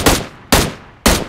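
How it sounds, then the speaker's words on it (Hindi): Three loud, evenly spaced gunshot blasts about half a second apart from boats exchanging fire in the mobile game PUBG Mobile, each sharp burst decaying quickly with no talk. "बहुत दूर दूर दो बोट आपस में फायर कर रहे होते हैं"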